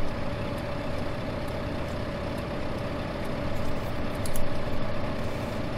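Tractor engine labouring under a heavy load in Farming Simulator 2015, a steady loud low drone with a constant mid-pitched whine, swelling slightly toward the end.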